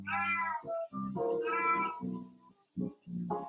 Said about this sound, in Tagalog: Ang pusa ko na saan na.